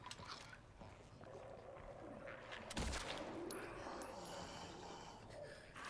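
Video game gunfire crackles in a dense, continuous burst with one sharper loud shot near the middle, set against steady game ambience and background noise.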